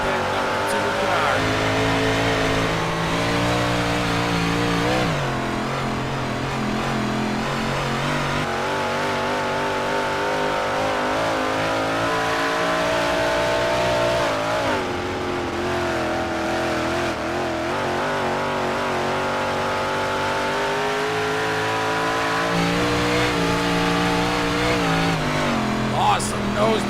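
Night racing cars run nose-to-tail in a battle for the lead, their engines a loud, continuous roar with rising and falling revs and a close onboard feel. A commentator talks over the engine noise throughout.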